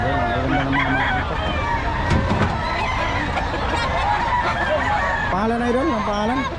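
Chickens clucking and crowing in a busy yard, with a rooster's crow rising near the end, while people talk over the birds.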